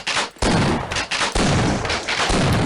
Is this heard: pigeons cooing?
no